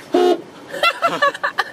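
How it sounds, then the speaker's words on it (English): A car horn gives one short, loud, close toot, and then a voice talks briefly and excitedly. "Sounds like a carnival horn."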